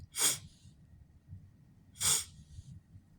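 Two sharp, loud nasal sniffs about two seconds apart, a voice imitating someone sniffing while crying, with a low murmur between them.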